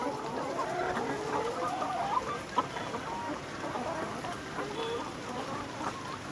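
Laying hens in a poultry farm during hot weather keep up a dense, steady chorus of clucking and chatter that fills the space, with no single bird standing out.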